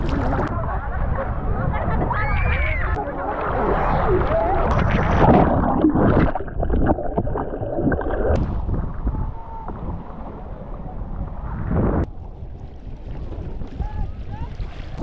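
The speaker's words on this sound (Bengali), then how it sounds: "অনেক ঢেউ, অনেক ঢেউ।" Sea waves surge and wash onto Bakkhali beach in steady, broad noise, with wind buffeting the microphone and a voice speaking over the surf.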